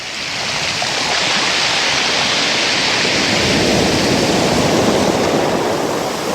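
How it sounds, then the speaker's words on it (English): Ocean waves break on Mill Shore Beach in Aberdeenshire, a loud, steady, close surf roar that swells slightly and never lets up, with no voices. "get a point between the waves here"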